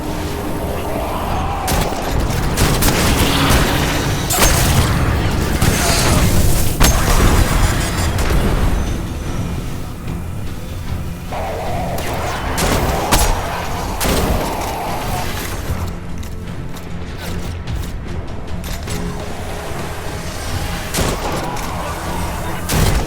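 Rapid gunfire and booming blasts from combat in the video game Destiny: Rise of Iron, loud dense volleys with explosions throughout, a voice occasionally heard underneath.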